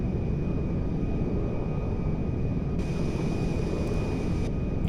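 Airbus A310-300 airliner landing in the video game GTA 5: a constant loud broadband engine roar with a steady high whine, unbroken for five seconds, close and dominant with no talk.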